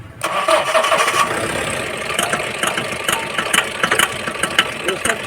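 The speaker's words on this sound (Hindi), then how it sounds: "ये गाड़ी स्टार्ट होता है, स्टार्ट होने के बाद sound cut cut cut cut कर रहा है।" A Bolero pickup BS6 diesel engine cranks and starts, then idles unevenly with a cutting, sputtering rhythm of sharp bursts, close and fairly loud.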